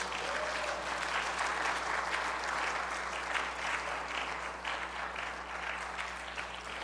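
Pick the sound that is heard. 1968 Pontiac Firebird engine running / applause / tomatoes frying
applause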